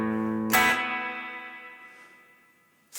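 Electric guitar through the plate setting of a TC Electronic Arena Reverb pedal, a sustained chord washing into a smooth, bright reverb tail that slowly fades, then a fresh strum starts near the end.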